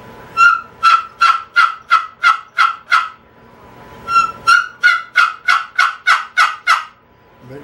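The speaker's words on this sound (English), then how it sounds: "this old turkey call really sounds good" Old two-channel walnut turkey call worked to produce a gobble: two bursts of rapid, rattling gobbling notes, about eight and ten pulses each, loud and close with a brief pause between them.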